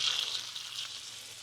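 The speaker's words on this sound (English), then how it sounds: "Oh, that one's sizzling." Mojo-marinated shrimp sizzle in a hot pan, giving a steady, close, crackling hiss that fades slightly, with no talking.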